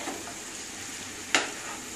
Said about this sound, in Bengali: হাই ফ্লেমে একটু কষাতে হবে এটাকে